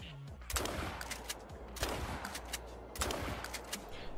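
Sharp gunshots in the hunting game theHunter: Call of the Wild ring out at roughly 0.5, 1.8 and 3.0 seconds, each a loud broadband crack with a brief tail over a steady background.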